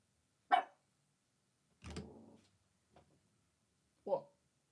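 A dog barks a few times, short single woofs spread across several seconds, somewhat distant and fairly quiet, against an otherwise silent room.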